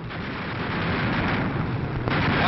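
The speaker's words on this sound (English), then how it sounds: "Watch this explosion." An explosion booms amid a World War II air battle between bomber formations and German twin-engine fighters. It is a dense, continuous roar of broadband blast noise with a small sharp burst near the end.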